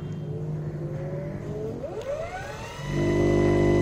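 A roughly 4 kg DC motor spins at full speed, its whining hum sliding in pitch before jumping to a louder, steadier low drone close by.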